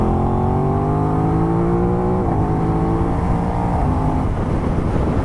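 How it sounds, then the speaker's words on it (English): Aprilia RS660 sport motorcycle engine revving with a loud, continuous exhaust note, pitch rising and holding in steady harmonic sweeps before settling, close and alone without talk. "That's a really nice exhaust note."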